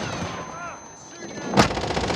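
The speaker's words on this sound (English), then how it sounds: "Stun grenade out." A stun grenade goes off in a desert battle video game, one sharp loud broadband blast after a stretch of quieter game noise and faint voices.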